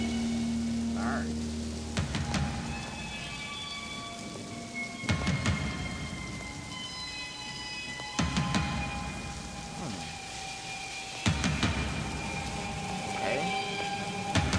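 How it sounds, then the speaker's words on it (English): Steady rain pours in the opening of a song, joined by several rolling thunder claps spaced a few seconds apart, with faint voices underneath. "Gotta have rain in it, okay."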